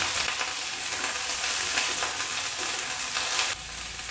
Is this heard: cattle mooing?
no